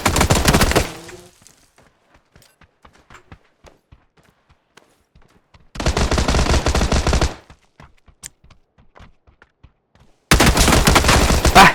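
Shotgun blasts in the battle royale game PUBG: loud booming shots with rattling tails at the start, mid-clip and end, separated by quieter stretches of faint clicks and taps.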